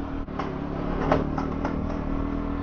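A motorcycle engine idles and revs roughly nearby, a rumbling, uneven running sound with a rattly, unhealthy edge.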